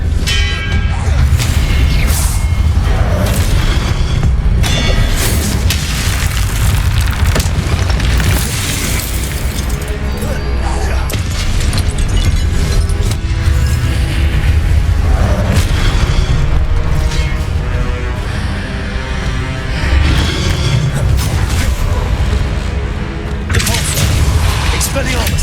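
Spell blasts, including Confringo and Expelliarmus, boom and crackle continuously in Hogwarts Legacy gameplay, with loud, dense bursts layered over a constant rumbling soundtrack and a voice speaking throughout.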